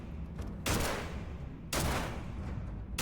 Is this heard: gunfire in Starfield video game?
yes